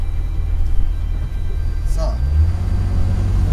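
Ford Mustang convertible with a V6 engine, in a 4000cc used car, idling or cruising with a steady low rumble that fills the bass throughout, while someone speaks briefly over it.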